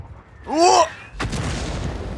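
Artillery fire in the tank battle game World of Tanks: a brief vocal sigh, then one sudden heavy blast that rolls into a sustained rumbling, noisy tail.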